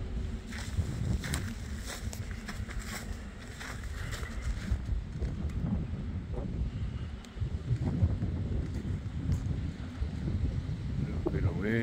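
Outdoor wind at Nuiqsut on Alaska's North Slope, a continuous low rumbling buffet against the microphone with gusty swells and rustle, steady throughout the clip.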